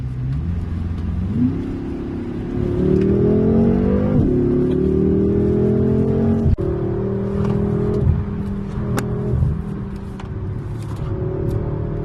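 A BMW M6 Gran Coupe's turbocharged engine pulls hard on a winding road near Idrija, revving up through rising tones and shifting gears, loud and close from inside the car with no talking.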